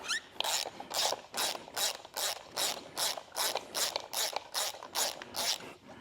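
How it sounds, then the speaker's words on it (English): Rhythmic ratchet clicking rings out about a dozen times in quick, even bursts while the valve cover bolts of a 1275 engine from a Bugeye are loosened, close and clear with no talk. "let's go ahead and take the valve cover off and take a look at what we see"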